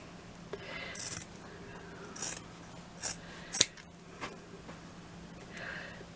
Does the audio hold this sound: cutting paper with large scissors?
yes